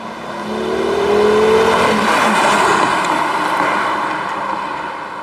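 A Porsche Carrera GT drives past and accelerates hard, its engine loud and close with a rising pitch that swells over the first second and stays strong for several seconds of continuous roar.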